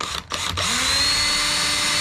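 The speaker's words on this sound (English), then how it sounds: "Now let's drill this hole." A power drill boring a hole in a kayak, with a couple of brief clicks and a stutter before the motor spins up into a steady, loud, close whine that holds to the end.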